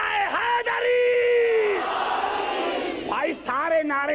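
At a 1991 Shia majlis, a massed crowd shouts back the Nara-e-Haidari slogan in long, loud, echoing calls. A lead voice cries out before each answering roar, and a second call-and-response follows near the end.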